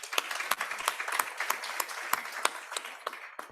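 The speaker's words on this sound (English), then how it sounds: "A round of applause," Applause from a modest audience at an awareness session on a regional Authorised Economic Operator programme, a few seconds of scattered, individually distinct claps at moderate volume, thinning out toward the end.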